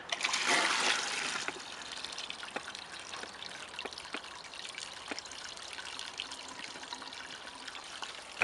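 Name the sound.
water draining out of a storage tote composter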